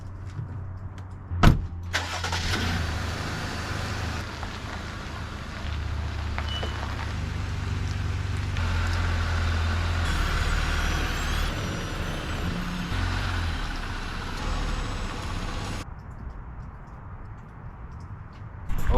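A 2020 Jeep Gladiator with a V6 engine drives slowly onto a yard, a steady nearby engine hum and tyre rumble with a sharp knock early on, ending when the engine shuts off.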